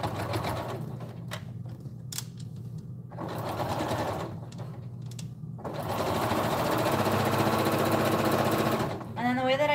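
A sewing machine stitching a fur blanket, running in loud rapid bursts that stop and start several times before one longer continuous run near the end.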